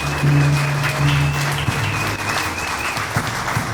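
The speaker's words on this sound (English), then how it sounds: "Please give her a big round of applause" An audience claps at a donors' appreciation banquet, a steady round of applause filling the room, with a sustained tone and some low murmuring running underneath.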